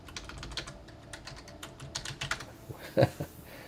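Keys clatter on a computer keyboard in quick irregular bursts of clicks, close and moderate, ending with one louder tap.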